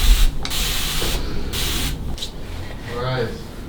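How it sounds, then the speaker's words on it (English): A handheld spray bottle of water misted onto hair, several short hissing bursts in a row, close up, with a voice briefly heard near the end. "I literally just use a spray bottle with water."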